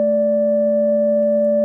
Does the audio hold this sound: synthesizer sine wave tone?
yes